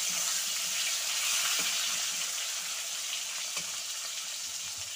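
Tomatoes go into a pan of fried potatoes and set off a loud, continuous sizzle with a dense hiss, close up, with a couple of faint clicks and no talking.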